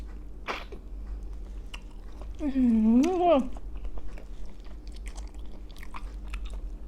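Fried fish balls are bitten and chewed up close, with soft crunching and moist chewing sounds plus a short vocal hum of enjoyment in the middle.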